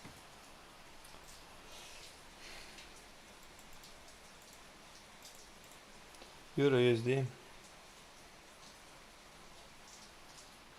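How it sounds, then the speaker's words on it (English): Steady rain pours down during a storm, a continuous broadband hiss throughout, with a short burst of speech partway through. "Raining there at your place? Yep, it's a storm"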